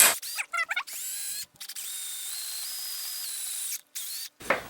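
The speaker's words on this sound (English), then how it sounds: "so we'll go ahead and drill this one out" A power drill bores out a hole with a 9/64 drill bit while making a keyhole hanger, high whining runs of steady drilling broken by short pauses and a few clicks of starting and stopping.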